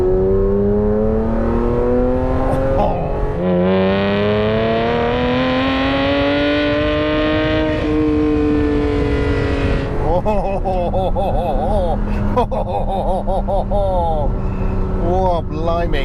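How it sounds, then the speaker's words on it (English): A Ferrari F512 M engine revs hard through a tubey exhaust, a loud close in-cabin roar climbing and falling through several throttle blips, with talk over parts of it. "Let's just have a little tickle, see what we've got with this tubey exhaust"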